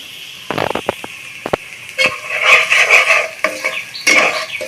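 Bay leaf, cinnamon, cardamom, cloves, ginger-garlic paste and salt fry in a pan. A loud, close sizzle surges and fades while a few sharp utensil clacks and scrapes sound early on.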